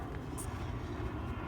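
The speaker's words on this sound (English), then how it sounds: "Another loud airplane going by." An airplane passes over a neighborhood dog walk near an airport, a steady low broadband roar filling the whole stretch at even loudness with no break.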